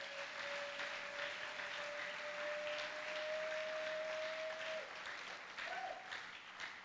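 A church congregation claps steadily to acclaim the Lord. The applause is sustained and moderately loud and spreads evenly across the room, while a held tone sounds under it and then fades near the end.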